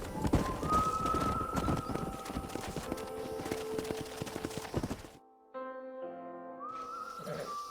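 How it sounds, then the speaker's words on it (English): Horse hooves clip-clop steadily in the video game Red Dead Redemption on PS5, over a busy game soundscape with bird coos and tonal music, briefly dropping out before resuming more quietly. "We got some fine horses."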